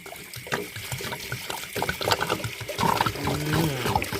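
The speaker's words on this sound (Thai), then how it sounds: "เติมน้ำเปล่าค่ะ" Plain water is poured into a container of bamboo shoots being prepared for pickling. It makes a close, continuous gurgling splash that thickens and grows louder as the vessel fills.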